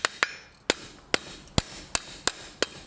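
Hammer blows ring out on a hot iron piece being bent in blacksmithing, about nine sharp metallic strikes at an uneven but steady pace, close and clear with no talk.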